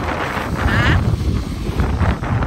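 Loud, steady wind outdoors near Mall of Asia in Pasay, Philippines, rumbling continuously against the microphone with brief bits of talk over it.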